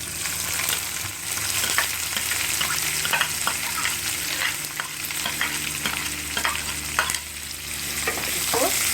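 Onions sizzle and fry in a pan after garlic and dried chillies, with a steady close hiss under repeated scraping strokes of a spoon stirring, no talking.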